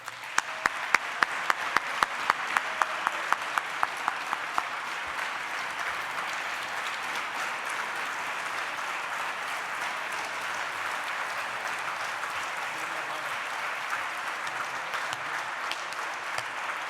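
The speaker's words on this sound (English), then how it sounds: "please join me in giving a big round of applause for the accomplishments and the man" Sustained audience applause at an annual awards celebration for a rising star award winner, steady dense clapping from a large crowd lasting throughout, with a few sharper near claps at the start.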